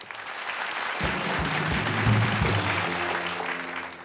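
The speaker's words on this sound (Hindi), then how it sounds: "स्वागत करिए इंकर नाना जी के जोरदार तालियों के साथ" Studio audience of a Bhojpuri TV show claps loudly and continuously, with a low droning musical tone entering underneath after the first second.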